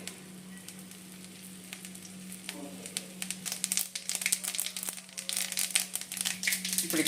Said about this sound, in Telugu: కడాయి పెట్టేసి బటర్ వేసుకున్నానండి. ఇప్పుడు జీలకర్ర, ఆవాలు వేసుకుంటున్నాను.